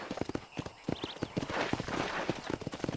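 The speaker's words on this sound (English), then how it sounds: "Control that horse, will ya?" Horse hooves clip-clop in Red Dead Redemption during a cattle drive, a quick, uneven patter of close hoofbeats mixed with game ambience and a brief whinny-like tone.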